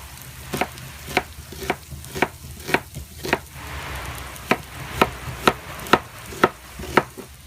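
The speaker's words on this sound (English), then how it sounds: "We've got 6 pieces of celery and 2 big onions in the pan and 1 stick of butter." Six pieces of chopped celery and two big onions sauté in a stick of butter in a pan, with a soft steady sizzle and sharp regular scrapes of a utensil stirring roughly twice a second.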